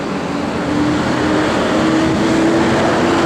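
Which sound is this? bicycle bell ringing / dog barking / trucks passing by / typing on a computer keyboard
trucks passing by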